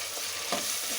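Two slit green chillies fry with ginger garlic paste in a pan, giving a steady close sizzle with a brief stirring scrape partway through and no talk.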